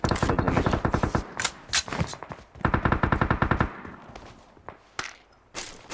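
Automatic gunfire in PUBG Mobile, rapid bursts of rattling shots in two long volleys with scattered single cracks and clicks between them, loud and close.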